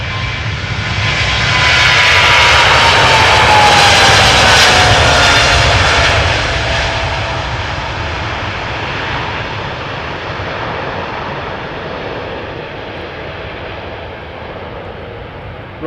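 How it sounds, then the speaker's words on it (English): A 13-year-old China Southern Cargo Boeing 777 freighter takes off at Amsterdam Schiphol, its engines a loud, sustained jet roar that swells over the first few seconds and then slowly fades into the distance. "China Southern Cargo to Guangzhou is rolling."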